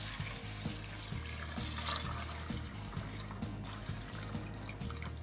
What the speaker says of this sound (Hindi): और उसके अंदर हम डालेंगे प्लेन वाटर.